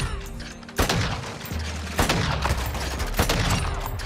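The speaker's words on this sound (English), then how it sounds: "Ignore those shots." Gunfire in a first-person shooter, with a few sharp shots fired at irregular intervals over continuous game ambience and a low rumble.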